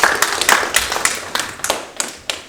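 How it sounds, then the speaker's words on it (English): A small audience in a room claps for Peter, a sparse, uneven run of distinct hand claps with noticeable gaps between them and no voices over it. "Everyone give Peter a clap."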